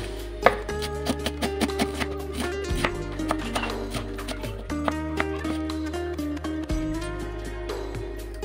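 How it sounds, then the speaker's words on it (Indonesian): A knife chops vegetables on a cutting board in a home kitchen, in a quick, uneven series of close, sharp knocks over a steady low hum. "ini kita potong-potong dulu sayurnya"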